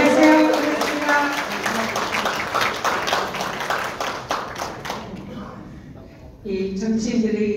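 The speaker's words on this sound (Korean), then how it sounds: "다시 한번 박수 부탁드립니다" Audience applause in a lecture hall at a political party launch event, brisk clapping that fades out midway, after which a speaker begins talking close to the microphone.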